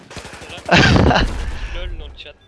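Gunfire in the video game Battlefield 4 during an esports match, a quick burst of loud shots lasting under a second, with faint background noise before and after.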